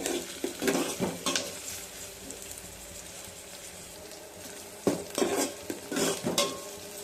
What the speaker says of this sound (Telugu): ఆనియన్ బాగా వేగాలి.